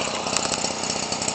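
Homelite Textron 30cc engine converted for RC use, running after a hand start with a loud, rapid buzzing two-stroke drone, close up and steady with no talk.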